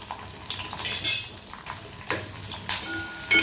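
Spices and garlic fry in hot oil in a pan, where a quiet sizzle sits beneath repeated metallic clinks and scrapes of a utensil stirring against the pan.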